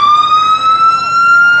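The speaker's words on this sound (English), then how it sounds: "just to let you know, Frank, that siren does work." A volunteer ambulance siren at a rodeo parade, a loud, close, steady electronic wail that holds a single rising tone without break.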